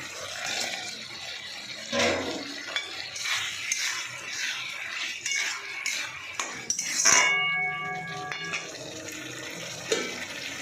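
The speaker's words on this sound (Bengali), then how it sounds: "তো বন্ধুরা আমি এবার একটু আলু দিয়ে দেবো।" Potatoes go into a cooking pan, with clattering utensils, scraping, splashes and a sharp metallic ring partway through; moderate kitchen handling noise that keeps stopping and starting, no talking.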